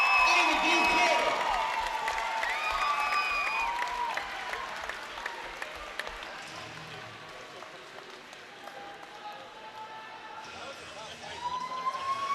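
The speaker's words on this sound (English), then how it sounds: "Let's give a round of applause first and foremost for Pria." Crowd applause and cheering at a Donny Brooke Fight Promotion fight event after a bout's decision, a dense wash of clapping and voices that starts loud and gradually thins out before swelling slightly again at the end.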